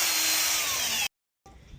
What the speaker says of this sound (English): I just drilled a pilot hole for the 3/8 that I'm going to be using here